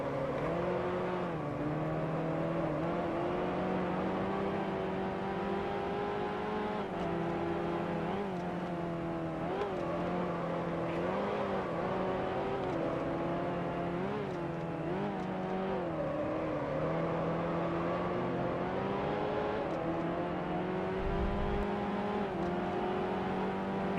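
A 1955 Connaught Type B racing car engine roars steadily at Brands Hatch in a racing sim, its revs rising and falling through gear changes, loud and continuous with no talk.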